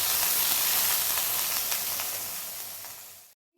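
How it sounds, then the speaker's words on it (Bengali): Chopped vegetables for a momo filling frying in a hot pan, a loud continuous sizzle and hiss close up that eases slightly before cutting off at the end. "এটাকেও ভালো করে ভাজবো।"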